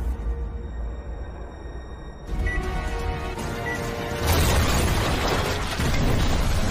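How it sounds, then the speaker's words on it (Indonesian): A mechanical rattle gives way to a sudden loud bomb blast, followed by a sustained roaring rumble and crackling debris noise. "Hingga pada akhirnya, bom itu pun meledak."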